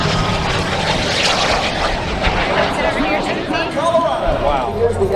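An F-5 jet makes a final low pass at an airshow in Fort Worth, a loud, broad engine roar filling the whole stretch while an announcer talks over it.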